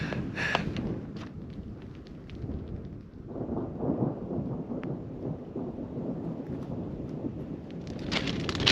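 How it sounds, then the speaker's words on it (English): Thunder rolls in a low, sustained rumble during a mountain storm on an exposed hike near a glacier in Great Basin National Park, heard together with wind, and the rumble swells again toward the end. "There's more thunder."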